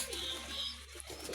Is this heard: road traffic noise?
no